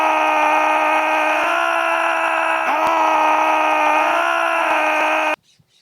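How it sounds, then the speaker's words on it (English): A man screams at the top of his lungs in a loud, sustained, guttural roar that holds steady for about five seconds and then cuts off abruptly into near silence. "scream at the top of their lungs for as long as they can, making the most guttural noises that they possibly could"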